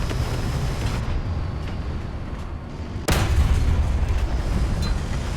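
A tank cannon shot from a ZTZ96 in War Thunder lands as one abrupt loud boom partway through, followed by a heavier rumbling engine and battle din over a steady low background.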